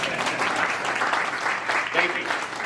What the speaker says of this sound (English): And that, ladies and gentlemen, is an applause cue.